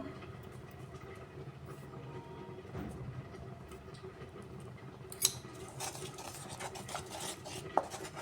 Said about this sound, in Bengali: এবারও আরও একবার মশলাটাকে আমি ভালো করে কষিয়ে নিচ্ছি